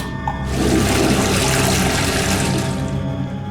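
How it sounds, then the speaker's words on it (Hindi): A toilet flushes with a loud, close rush of water that surges in and churns steadily for about three seconds before starting to fade. No one speaks. "वो मैंने टॉयलेट में फ्लश कर दिए थे।"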